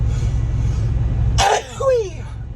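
A single sharp sneeze bursts out close to the microphone over a low background hum, followed by a short vocal exclamation.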